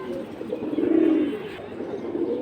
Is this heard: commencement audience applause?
no